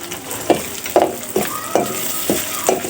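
Turmeric, chili, coriander and cumin powders with salt fry in a pan for a steamed egg curry. Close, loud sizzling is broken by a spatula's rhythmic scraping strokes, about two each second.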